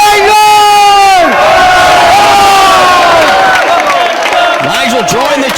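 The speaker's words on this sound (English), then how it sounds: "Again, hearing it from the crowd in Liverpool." A loud live crowd in Liverpool roars and chants at a Ring of Honor wrestling match between Jimmy Rave and Nigel McGuinness, the cheering swelling and holding steady with a commentator talking over it.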